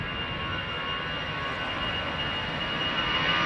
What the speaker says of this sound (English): A319 going to Glasgow.